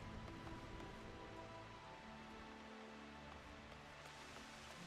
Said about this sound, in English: Oh, that rain and thunder.